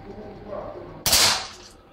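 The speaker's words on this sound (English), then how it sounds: "Yeah, I'll call them out as I shoot them." An air rifle fitted with a Huma regulator upgrade fires once, producing a single sharp, loud crack that cuts off quickly after a quieter stretch of room noise.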